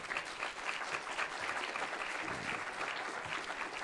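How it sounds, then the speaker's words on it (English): A round of applause from a forum audience for a crowdfunding panel at a Columbus Metropolitan Club event, steady and moderately distant clapping that fills the whole stretch without talk. "Let's give this panel again a round of applause."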